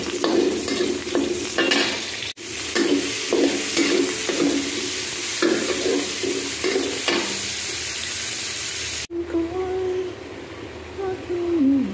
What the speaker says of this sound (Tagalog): pinito natin sa butter yung chicken